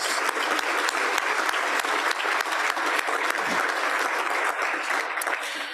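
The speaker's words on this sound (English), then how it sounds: "that deserves a round of applause" A large audience applauds steadily at a Rotary club business awards luncheon, dense continuous clapping filling the room at a constant loud level throughout.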